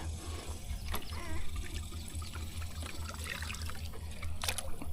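Water poured in a thin trickle for a trapped hog outdoors, soft and faint, with a low steady hum and light splashing throughout.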